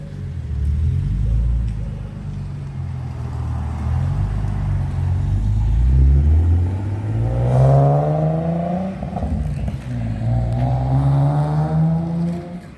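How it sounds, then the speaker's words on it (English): A customised twin-turbo Nissan 370Z pulls away, its engine rumbling loud and close with rising revs through a couple of gear pulls, then settling into a steady drone. "so there goes Warren backing out onto the street"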